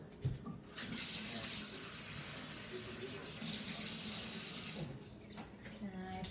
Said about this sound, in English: put the cup of water in it